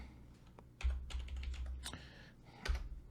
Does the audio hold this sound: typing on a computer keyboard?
yes